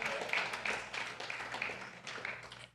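Congregation at a Sunday service claps in a room, a soft, fairly distant patter of hands lasting a few seconds before fading out.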